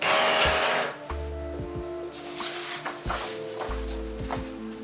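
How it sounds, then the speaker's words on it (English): A Canon MAXIFY GX-series inkjet printer printing a nozzle check, with a loud whir at the start, then repeated mechanical carriage passes, clicks and motor hums in a steady rhythm. "Here I print a nozzle check, which checks the print head health and displays also the counter and firmware version on the printer."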